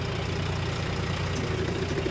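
A John Deere 5050D tractor engine runs on a farm with a nine-tine plough, giving a steady low diesel rumble at close range that stays constant throughout.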